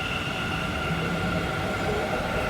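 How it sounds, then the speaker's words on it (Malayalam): A metro train in Bangalore runs past a station as a steady, continuous rumble with a faint rail whine, loud and close throughout, with no talk over it. "അതാണ് ഗായ്സ് മെട്രോ"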